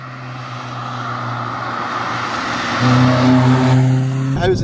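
A Toyota Starlet's 1.3 litre engine revs hard, a steady buzzing drone climbing in pitch and bouncing near the limiter before cutting off abruptly, loud and close.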